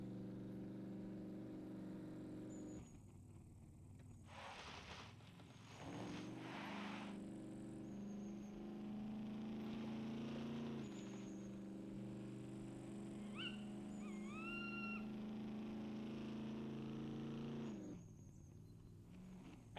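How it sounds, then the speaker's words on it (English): Truck engine in the survival video game SCUM, a steady droning motor hum with a shifting pitch as the vehicle drives along, plus a brief chirping sound partway through; no talking. "Oh, that truck sounds nice,"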